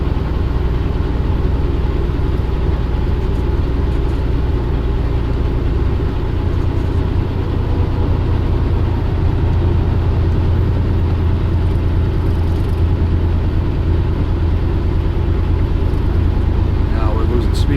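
Car engine pulling uphill on a mountain road, a loud continuous low drone heard from inside the cabin, steady for the whole stretch, with a voice talking over it.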